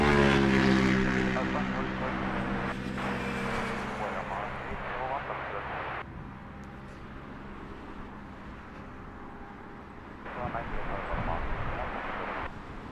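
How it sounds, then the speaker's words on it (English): A British Airways Airbus A320-200 lands on Heathrow runway 27L. A broad engine roar starts loud and close, then eases into a sustained rumble, with a rougher swell near the end as the plane touches down on the runway. "Next to touchdown, here on runway 27 left, British Airways flight 537, this one in from Naples on an A320-200."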